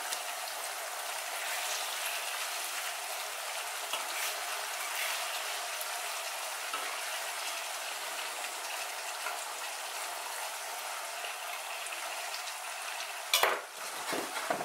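Hake pieces and eggs being stirred in a pan of green sauce with asparagus, a soft continuous simmering sizzle with faint utensil scrapes, ending in a couple of louder clunks near the close.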